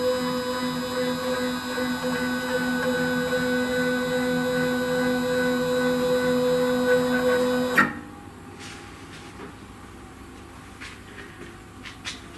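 GRBL-controlled CNC machine jogging one axis 200 millimetres, a loud steady stepper-motor whine with tonal hum for about eight seconds, then it stops abruptly, leaving faint room noise and small clicks.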